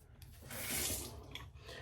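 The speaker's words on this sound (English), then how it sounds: "I'll put a little near hot water back on my face." Hot water splashes and runs at a bathroom sink during a shave, a short broadband wash that swells mid-clip and then trails off, with no talk.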